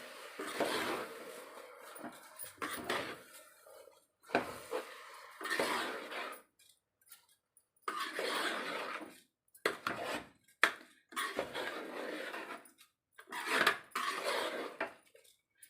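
Soaked rice being stirred into tomato bath in a metal pan, with a utensil scraping and clinking against the pan in bursts separated by short pauses, close and fairly quiet, with no talking.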